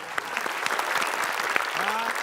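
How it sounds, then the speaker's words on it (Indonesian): An audience claps for a TV quiz show, giving steady, dense applause throughout with a voice briefly audible beneath it. "tepuk tangan."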